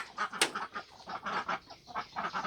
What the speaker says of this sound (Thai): เสียงเป็ดร้อง